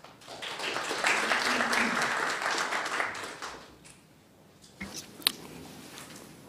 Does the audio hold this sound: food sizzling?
no